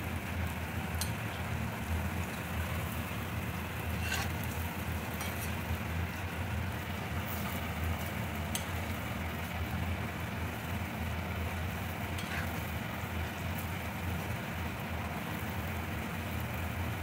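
Steady torrential rain falling outside, a constant dense hiss with a low rumble underneath and a few faint clicks, with no speech.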